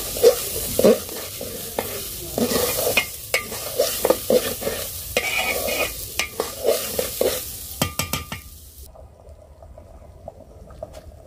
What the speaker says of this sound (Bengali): কড়াইতে কিন্তু চালটা ভাজা ভালো হয়